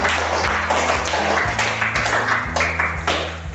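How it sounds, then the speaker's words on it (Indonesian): Students in a junior high school science classroom clap together at the end of a group presentation, a steady patter of many hands lasting a few seconds over a low hum. "Kita kasih tepuk tangan semua untuk"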